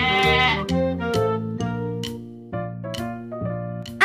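A cartoon goat in an animated Bengali fox folktale bleats in a run of loud, tuneful, wavering cries, several short calls one after another, with nothing else heard.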